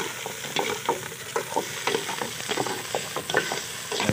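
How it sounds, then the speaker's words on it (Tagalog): Turtle meat simmers in a pot of tinola soup. Steady bubbling and sizzling come from close by, broken by clinks and stirring noises. "Kumukulo yan. Kumukulo na."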